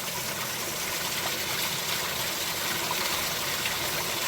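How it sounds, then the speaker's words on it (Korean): Mountain stream in Cheonmasan valley, water splashing up like a fountain, gives a steady, loud broadband rush and babble that holds evenly throughout with no voices. "여기 또 물소리 한번 들어주겠습니다."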